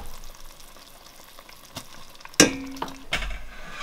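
Ground crayfish tipped into a pot of Nigerian fish okra soup and stirred, with a quiet bubbling simmer, then a sudden metallic clatter of the spoon against the pot and a few softer knocks, close up.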